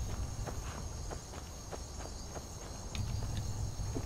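Hooves clip-clop at a steady walking pace in a video game, an even series of soft knocks over a constant ambient bed of insect-like chirping, with a slightly louder passage near the end.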